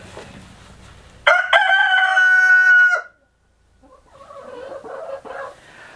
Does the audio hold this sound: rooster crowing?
yes